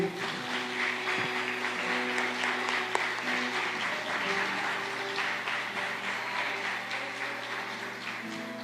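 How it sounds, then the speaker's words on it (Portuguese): Sustained applause from a church congregation, steady and fairly loud throughout, with a low hum and faint music underneath. "Você pode aplaudir o Senhor?"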